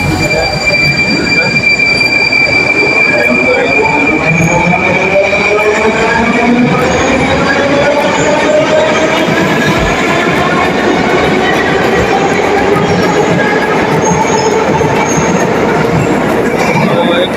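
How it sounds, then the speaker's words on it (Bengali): An underground metro train in Moscow runs loud and close for the whole stretch, its wheels squealing in long rising and falling whines over a steady rumble and rattle of the carriages. "প্রথম আসলাম মেট্রো রেলে মাটির নিচে"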